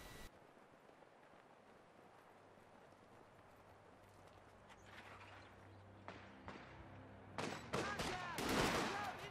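Bursts of machine gun fire and gunshots from the video game Company of Heroes 2, building from a faint rattle into a loud, dense volley of rapid shots near the end.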